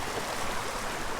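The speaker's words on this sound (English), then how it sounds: "The creek flowing over the rocks here." Mountain creek flowing over rocks, a steady close rushing and splashing of water filling the short moment, with no voices.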